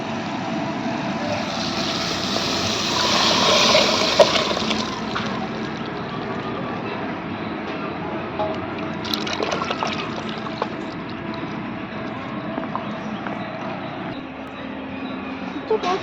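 Tamarind and tomato water pours into onions frying in a pan for a village-style carp fish curry, a continuous rushing hiss and sizzle that swells early then settles, with a person talking throughout.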